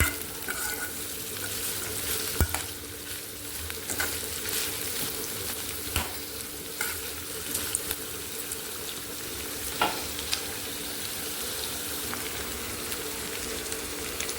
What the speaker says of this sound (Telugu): ఉల్లిపాయ ముక్కలు వేసేసి మొత్తం కలిసేలాగా కలిపేసుకుందాం.